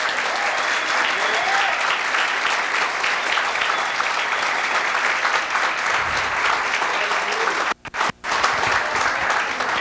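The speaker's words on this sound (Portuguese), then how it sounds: "dê uma salva de palmas para o Espírito Santo" A church congregation at a conference service applauds continuously, a loud, dense wash of clapping and crowd noise that holds steady, with a brief pair of dropouts near the end.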